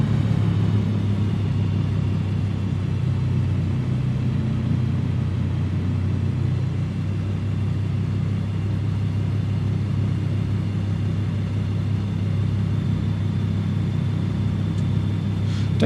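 A RANS 6 light aircraft's propeller engine runs steadily in Microsoft Flight Simulator 2024, a constant low droning rumble that holds close and even throughout with no talk over it.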